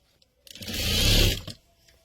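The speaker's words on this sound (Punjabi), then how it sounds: "ਇਹਦੇ ਉੱਤੇ ਆਪਾਂ ਦੱਬ ਮਸ਼ੀਨ ਲਗਾ ਇਸ ਤਰ੍ਹਾਂ" Sewing machine running a single continuous burst of stitching, about one second long, along a seam on a garment neckline backed with pasting paper, loud and close with no talk.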